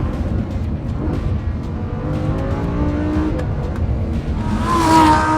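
A Lamborghini Huracán, a powerful rear-wheel-drive car, accelerates hard out of a corner, its engine roaring loudly and steadily with rising pitch, swelling near the end.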